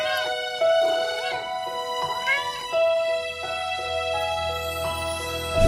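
A kitten meows repeatedly, the calls up close and clear, some drawn out and rising, over a faint low hum with no talking.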